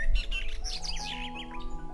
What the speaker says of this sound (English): the giant woke up to the sound of a chirping bird